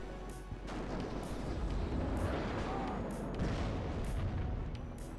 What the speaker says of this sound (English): Artillery prepping to fire here again on this corner.